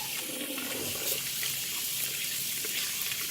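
Tap water pours steadily from a faucet into a pot of cassava leaves, a continuous bright hissing splash, close and even, with no talking.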